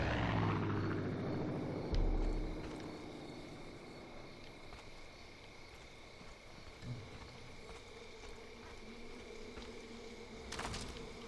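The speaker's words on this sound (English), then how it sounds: "Stupid airplane." A propeller airplane drones overhead in the video game Far Cry 5, a steady buzzing engine hum that fills the whole stretch with slight swells, alongside faint game ambience and a couple of brief thuds.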